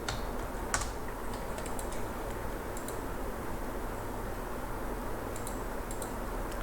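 Fast, faint clicking of keys on a computer keyboard while entering a formula in an Excel spreadsheet, a soft steady patter of keystrokes against a quiet room hiss.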